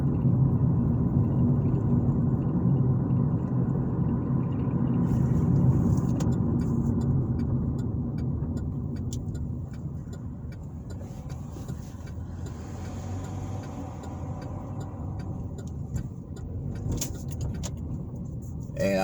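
A car drives along a road through a small Alabama town, its steady engine rumble and tyre roar continuous and close for the whole stretch, easing slightly midway, with no talk.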